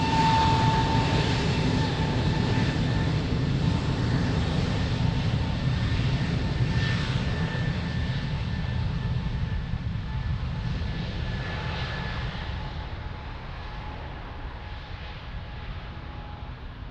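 A fixed-wing airliner rolls and climbs away from runway 02 at Lisbon Airport, its broad jet-engine roar loud and steady before slowly fading over about seventeen seconds, with a faint tonal whine riding on top.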